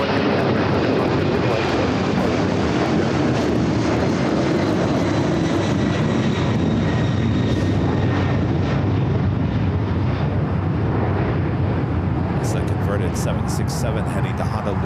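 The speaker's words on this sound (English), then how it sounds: "767 heading to Honolulu." A Boeing 767 jet at Los Angeles International Airport, heading to Honolulu, producing a loud, continuous engine roar throughout, with people talking over it.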